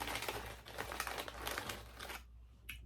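Potato chip bag being ripped open along the side, a quiet close crinkling and tearing that runs steadily for about two seconds, then stops, with one brief rustle afterward.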